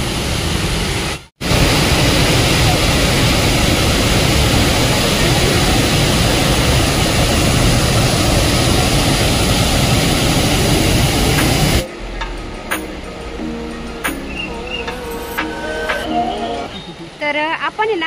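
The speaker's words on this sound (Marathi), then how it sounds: "खूप आवाज चालू आहे धबधब्याचा." Loud, steady broadband roar of water plunging from a great height at a high waterfall near Bhandardara, filling the first twelve seconds before dropping to a quieter, busier background with voices and clatter.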